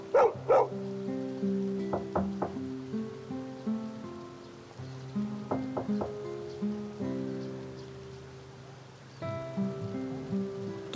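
A dog in an animated adventure barks in short clusters, a few sharp yips close by, set over soft looping music with no talking.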